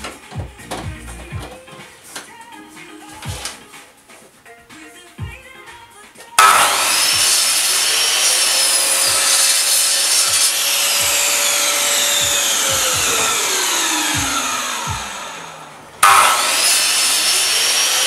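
A Festool power tool fitted with an 80-tooth blade cuts wood, starting abruptly with a loud whining roar that holds for about ten seconds, falls in pitch, then restarts; quieter handling clicks and knocks come before it.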